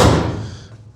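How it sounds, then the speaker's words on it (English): A 1968 Firebird's car door shuts with one loud, solid slam right at the start, after a freshly installed rocker panel, then rings off into a fading low rumble. "The door still closes good."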